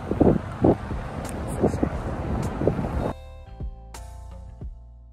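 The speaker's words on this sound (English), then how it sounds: "This wind don't respect me one bit." Outdoor wind gusts buffet the microphone in uneven bursts for about three seconds, then cut off abruptly into quieter sounds.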